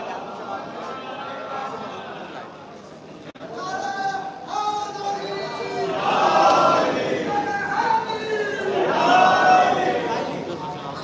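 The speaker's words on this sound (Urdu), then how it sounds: "آپ سے گزارش ہے کہ استقبال میں بآواز بلند نعرے صلوات ارشاد." A gathering crowd at a religious poetry recital celebrating Imam Hasan's birth chants salawat slogans in loud call-and-response bursts, voices swelling twice to a strong peak.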